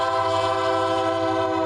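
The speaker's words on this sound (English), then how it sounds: "the rumbling of the train" A Norfolk Southern train rumbles through a street crossing in Scottsboro, a steady, loud, continuous drone with sustained horn-like tones held throughout, no voices.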